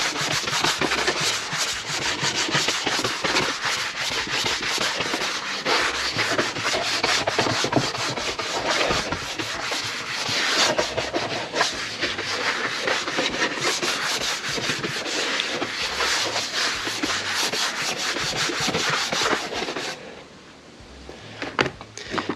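Continuous brisk rubbing as a snowboard base is buffed after waxing, a steady dense scrubbing texture close up that runs unbroken for about twenty seconds before easing off near the end.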